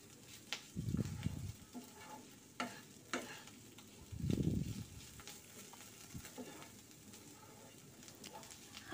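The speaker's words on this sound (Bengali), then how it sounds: "আমি আবার একটু নেড়ে দিচ্ছি।" Drumstick leaves frying in a pan, a low sizzle broken by a few scraping stirs of a spatula, two of them longer and heavier, all fairly soft.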